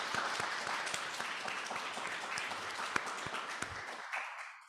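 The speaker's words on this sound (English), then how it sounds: "A big round of applause for our presenters." Warm applause from the audience at a literary reading event, many hands clapping in a thick continuous patter with a few crisp individual claps standing out, before it quickly dies away into silence at the end.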